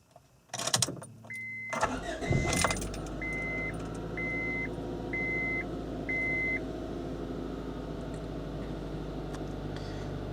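A car engine cranks and starts after an oil change, then idles steadily close by while a chime beeps repeatedly over the running engine.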